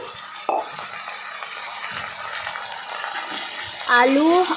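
Tomato, chopped onion, spice paste and potato fry together in a pan while being stirred, a soft sizzling and scraping heard close by, with a person speaking over it toward the end.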